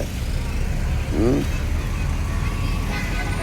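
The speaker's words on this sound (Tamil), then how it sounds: "ஏதோ ஒரு கார் போகுது" A car passes along a road, its engine and tire noise a steady wash over broadband traffic rumble, with a brief voice around the middle.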